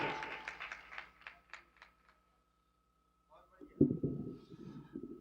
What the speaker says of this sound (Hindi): बस मोहताज हैं तो आपकी जोरदार तालियों के